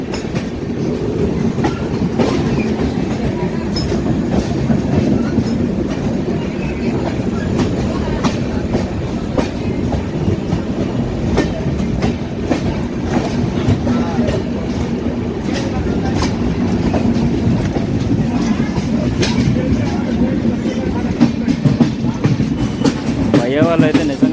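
A Swarnajayanthi superfast train runs at speed, heard from inside a crowded general coach: a loud, steady rumble with rhythmic clickety-clack of wheels over rail joints that continues throughout.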